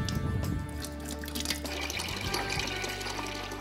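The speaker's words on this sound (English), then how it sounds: "the next step in the process is to actually get the liquid wax out of the melter and into our pouring pots" Liquid candle wax poured from a melter into a pouring pot, a short steady gush and splash of flowing liquid that stays fairly constant, close and moderately loud.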